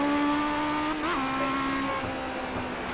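A race car on a 40-lap feature track goes on and off the throttle while downshifting to a low gear, a steady engine drone with a brief pitch dip and recovery as the revs change.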